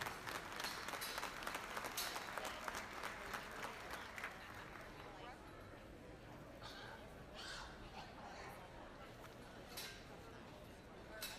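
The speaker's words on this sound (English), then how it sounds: "Let's give these kids in the first class of Berkshires a nice big round of applause." Applause rises for the kids showing the first class of Berkshire hogs at a junior market swine show, a moderate, somewhat distant patter that thins out amid crowd chatter and talk.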